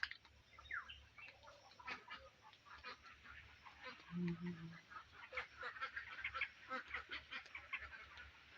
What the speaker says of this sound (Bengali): এই পুকুরে হাঁসগুলো চড়ে বেড়ায়